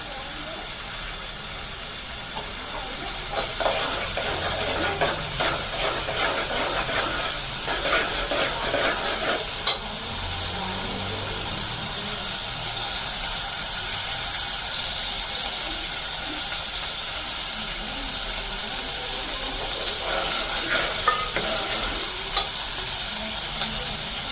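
Ginger and garlic frying in a pan for a village-style moong masoor dal, a continuous sizzling hiss with bursts of stirring scrapes through the middle and near the end.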